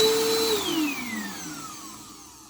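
A Bissell PowerForce 1739 bagged upright vacuum cleaner spins down after being switched off, its high motor whine sliding steadily lower in pitch and fading over a couple of seconds, close and alone.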